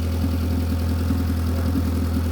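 A turbocharged Honda F23 engine in an Accord idles steadily at close range, a continuous low rumble with a faint rhythmic pulse and no voices.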